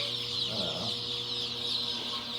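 Dense, steady high peeping from many chicks in a brooder fills the space without pause, with a constant hum of fans underneath.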